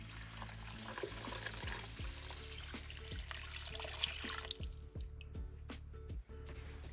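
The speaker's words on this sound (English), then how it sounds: "I'm going to start adding my water." Water pours and dribbles into a cooking pot of Mexican rice, with a steady liquid rush and scattered drips and splashes heard up close, then thinning toward the end.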